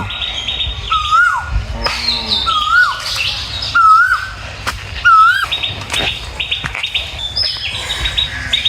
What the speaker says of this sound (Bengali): ওই পাখি না নারকল গাছে